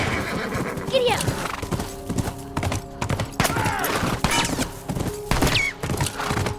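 Horse hooves clip-clop in a fast gallop with repeated whinnies in a video game, under shouting voices and gunfire-like bursts.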